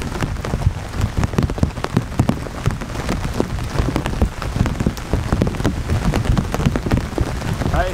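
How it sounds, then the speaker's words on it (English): Heavy rain pours down in a dense, constant patter, loud and close, with no voices. "it's raining hard."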